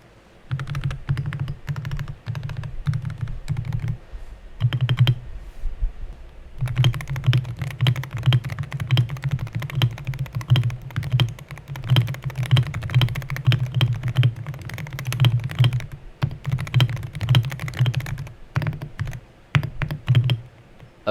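Steady, fast typing on a Wooting 80HE keyboard fitted with heavier springs, set to 0.1mm actuation with rapid trigger. Dense, crisp clicks and clacks run continuously at close range, with only a short pause partway through.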